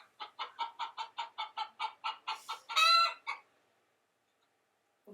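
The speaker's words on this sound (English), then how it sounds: "And those are chickens." Chickens on a farm clucking in a quick, regular run of about a dozen short calls, rising into a louder squawk near the end before falling silent; close and alone, with no talk.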